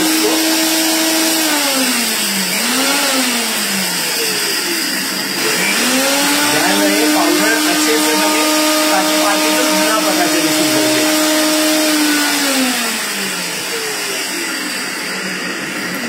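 Mixer grinder running steadily while grinding sugar into powder, a loud continuous motor whine that drops and restarts once partway through, then winds down near the end; a voice talks faintly over it.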